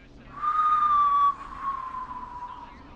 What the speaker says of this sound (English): Unconvincing whistling?